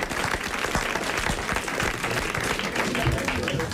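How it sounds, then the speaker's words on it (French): Applause from a studio audience at a French radio or television talk show, steady dense clapping filling the room at moderate volume, sustained without a break. "Je vous remercie pour les applaudissements."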